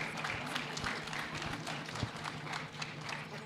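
Scattered applause from a graduation ceremony audience is heard faintly, with a quiet patter of claps and taps running throughout at some distance.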